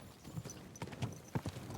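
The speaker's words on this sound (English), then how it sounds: "I guess I can't ride the horse at full speed in town." Horse hooves clip-clop at a slow walk through a medieval town in Kingdom Come Deliverance 2, several clear, close, irregular hoof strikes with no talk.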